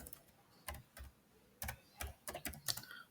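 Keys clack on a computer keyboard as Java code is typed, in short irregular bursts of sharp taps with pauses between, fairly close and with no talking.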